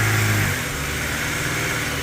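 An Infiniti G37 engine holds a loud, low rev that eases down to a steady rumbling drone, heard up close with no talk over it.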